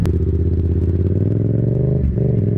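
A BMW R18's 1.8-liter horizontally opposed twin-cylinder boxer engine runs steadily up close, a deep, even throb that briefly dips near the end.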